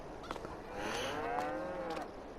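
A cow in a PS4 farming game lets out a single drawn-out moo in the middle of the clip, moderately loud over a faint ambient farm backdrop, with nobody talking.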